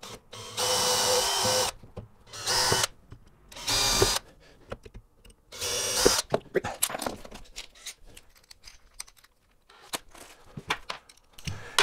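Cordless power drill on a low torque setting driving small 3/4-inch screws into a wooden drawer box, with several loud whirring bursts of a few seconds each, then lighter clicks and handling noises close by.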